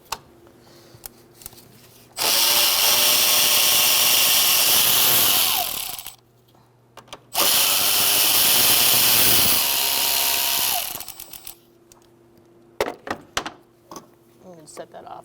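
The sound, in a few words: 8mm socket ratchet removing IAC valve on Ford Taurus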